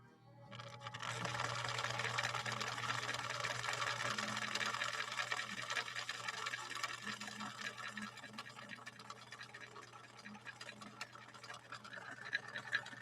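A 1961 Viki sewing machine stitching polyester-acrylic fabric with Sulky 40 weight rayon embroidery thread, a steady close mechanical whir with a rapid rhythmic needle clatter that runs continuously after a brief start.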